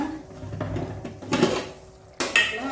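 Okra is stirred in a pan with a spoon: a few metallic clinks and scrapes against the pan, with a sharper knock near the end, close and unaccompanied by speech.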